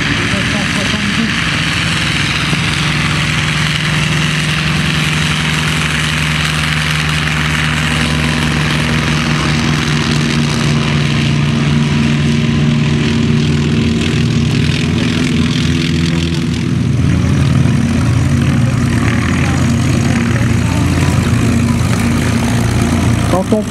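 A T-40 propeller aircraft taxiing on the ground at an airshow, its engine a steady loud droning rumble with propeller whir throughout, and a voice talking over it.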